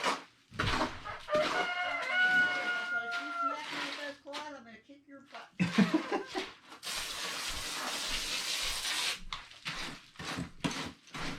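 A rooster crows loudly with long harmonic calls, hens cluck around it, and people talk intermittently in the background.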